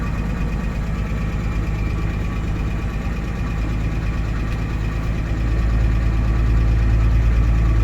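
An engine runs at a fast idle with the choke on, a steady loud drone that holds evenly and then swells slightly heavier partway through, with nobody speaking.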